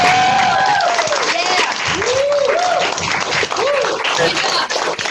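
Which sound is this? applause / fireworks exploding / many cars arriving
applause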